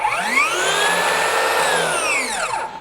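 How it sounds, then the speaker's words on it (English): A Metabo HPT 36V 7-1/4 inch cordless circular saw runs free with no load, its high-pitched whine loud and steady, with the pitch rising as it spins up and falling away as it winds down near the end. "This thing cuts really fast, and it's neat to hear it go between the different modes"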